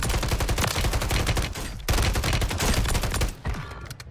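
Rapid SMG fire in Warzone 3, a dense, loud stream of automatic shots with a brief pause near the middle before the bursts resume, then tapering off at the end.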